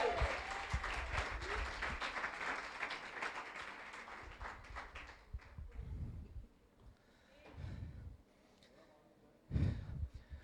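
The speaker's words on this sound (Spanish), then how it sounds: "Un fuerte aplauso para ellos." A church congregation applauds warmly for several seconds, dense clapping that fades out around the midpoint, leaving scattered movement and brief murmurs before a final short burst of sound.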